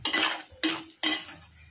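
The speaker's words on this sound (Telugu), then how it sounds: "బాగా కలుపుకోవాలండి. లో మీడియం ఫ్లేమ్లో అడ్జస్ట్ చేసుకోవాలండి మనం." A spoon scrapes and clatters against a pan while egg bhurji is stirred over a low-medium flame, three distinct scraping strokes with a soft sizzle beneath, close and fairly loud.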